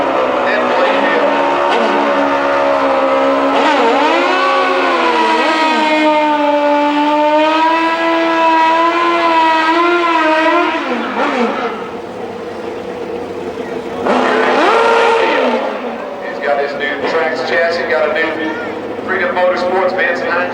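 Pro Stock drag race engines at Houston Raceway Park rev and scream down the strip, loud rising and falling harmonic tones that shift pitch, then fade and return briefly, with commentary heard over them.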